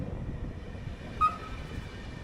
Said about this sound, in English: another local train departing for the Casa port railway station